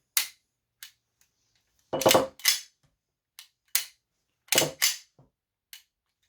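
A GSG FireFly long-barreled pistol, UK edition, has its action worked through: sharp metallic clicks and snaps come close up in irregular pairs and singles, separated by silence, with no voices.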